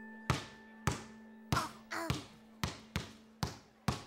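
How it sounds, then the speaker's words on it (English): A ball bounced steadily on a hard floor, about nine crisp thumps in an even rhythm with one brief double bounce, close by over a soft sustained musical tone. "That's somebody bouncing a ball."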